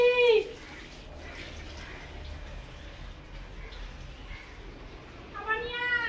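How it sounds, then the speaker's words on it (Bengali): Tap water runs in a steady, soft hiss while household dishes are being washed. A voice speaks briefly at the start and again at the end. "এখন এই বাসন পত্র পড়ে রয়েছে, বাসন ধোবো।"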